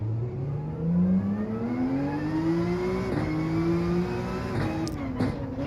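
A Porsche race car engine in Gran Turismo 7 climbs steadily through the revs, loud and close, with one brief gear-change dip partway through, no voices.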